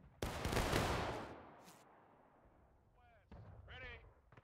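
In the War of Rights video game, a company of infantry fires a musket volley on the Antietam battlefield, one sharp loud crack rolling into a long echo. Shouted commands follow over the fading report.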